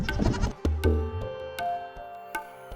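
A herd of goats on a mountainside in the Kashmir region, with several overlapping bleats up close at first, then scattered single calls.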